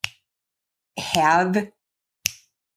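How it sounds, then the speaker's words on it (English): Two sharp, isolated finger snaps, one at the start and one near the end, with a short burst of a person talking in between. "I just start snapping my fingers"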